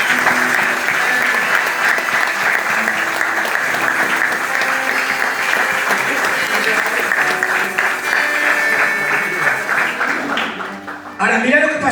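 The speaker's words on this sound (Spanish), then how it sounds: "Dale un fuerte aplauso al Señor." Congregation in a church service applauding loudly and steadily, dense sustained clapping for about ten seconds before it cuts off and a voice begins speaking.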